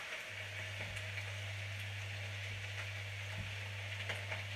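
Chicken stew ingredients fry in a pan with a steady, broadband sizzle and occasional soft stirring clicks, with a low constant hum underneath throughout.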